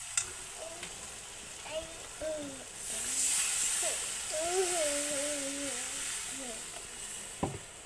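Fish roe fritters slide into a spiced sauce in a pan and simmer with a soft, steady sizzle and hiss. Someone talks over the cooking at length.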